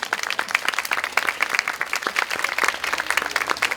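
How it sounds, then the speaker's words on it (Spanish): Audience at an academic panel discussion on curriculum design giving a strong round of applause, dense close clapping that stays even and loud throughout. "vamos a darles un fuerte aplauso a ellos tres"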